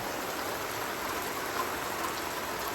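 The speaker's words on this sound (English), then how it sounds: "This is usually how much it rains during a thunderstorm" Heavy thunderstorm rain pours down in a steady, dense hiss that stays unbroken and fairly soft in level, with no thunder or voices standing out.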